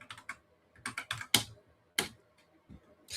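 Bursts of rapid typing on a malfunctioning computer keyboard, with crisp, close key clicks in uneven clusters separated by short pauses and a few single hard taps.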